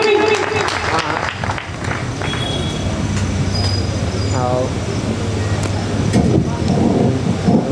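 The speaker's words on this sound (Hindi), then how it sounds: "जरा जोरदार तालियां बजा करके" Audience at an all-India Hindi poetry gathering (kavi sammelan) at a fair in Chhatarpur clapping, a dense continuous wash of applause with crowd noise and a voice speaking over it.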